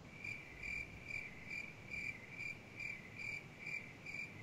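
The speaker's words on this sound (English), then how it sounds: "Where's my crickets there?" A cricket chirping sound effect plays alone, a steady series of about ten evenly spaced, bright trilling pulses against a soft hiss, fairly faint and close.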